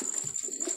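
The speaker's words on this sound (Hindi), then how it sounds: "ये शोके भाई के नीले कबूतर जाक चपड़े कबूतर है भाईजान ये" Blue chapra pigeons coo in short, soft low rounds, a few close calls in quick succession over a steady background hiss.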